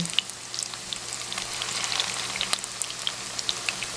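Keto chicken tenders sizzle and crackle steadily in hot oil in a pan, with scattered sharp pops over a constant frying hiss and a low background hum.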